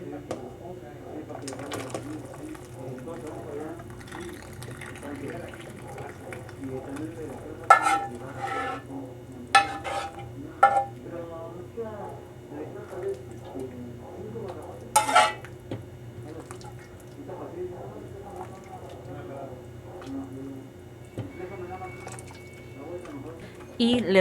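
A ladle scrapes and clinks against a pot while foam is skimmed from beef birria broth, with scattered sharp metallic taps and a low simmering hum. A person talks throughout.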